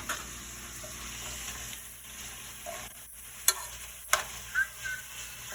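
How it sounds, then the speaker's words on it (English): Chopped vegetables fry quietly in a pan with a soft steady sizzle, broken by a few sharp clinks of a utensil stirring against the pan. "I'm gonna stir that all around now"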